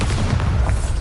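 A Bombarda explosion spell in a Hogwarts video game lands as a loud, deep booming blast, a dense rumbling roar filling the whole brief moment.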